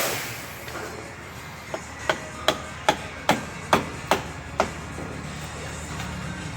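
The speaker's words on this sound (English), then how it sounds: "I like to just wedge the screwdriver underneath that clamp and just give it a little whack." A hammer strikes a screwdriver wedged under an inner tie rod clamp on a 2003 Dodge Grand Caravan, eight sharp metallic blows in a steady rhythm, close and clear over a faint background hum.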